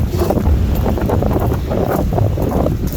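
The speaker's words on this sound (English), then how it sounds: "wouldn't be so bad if it wasn't for the wind" Strong wind buffets the microphone on a chilly fall day around freezing, a steady loud roar and rumble that runs without pause for the whole stretch, with no one talking.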